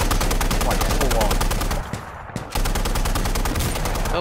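Rapid automatic gunfire in a video game with a Jeep under attack, loud continuous bursts of shots with a brief lull midway before firing resumes at full intensity.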